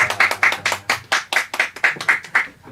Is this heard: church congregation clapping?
yes